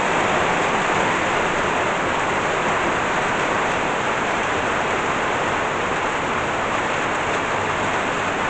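Heavy rain during a thunderstorm in Burgos pours down steadily, a dense, loud and unbroken hiss that stays constant throughout with no other sounds standing out.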